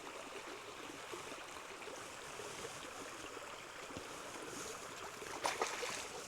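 Steady, soft rushing and trickling of a creek during an Australian bush walk, a continuous faint water sound with no talking.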